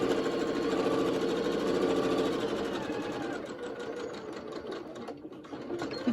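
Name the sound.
sewing machine stitching unfinished fabric edges of a pocket mask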